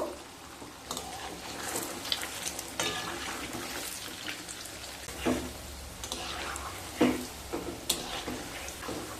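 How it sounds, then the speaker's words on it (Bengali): Semolina balls for gulab jamun frying in hot oil give a soft, steady bubbling sizzle with scattered light clinks and pops, heard close but quiet. "তেলটা গরম হয়ে গেলে সুজির বলগুলোকে ছেড়ে দেব মিডিয়াম টু হাই স্টিমে কালচে ব্রাউন করে ভেজে নেবো"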